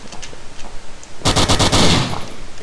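Heavy .50 caliber machine gun fire in the zombie game Zomblock: a loud, rapid burst of shots starting after a quiet stretch and running for about a second and a half.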